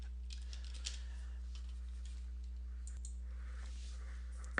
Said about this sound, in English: Very exciting watching me type this.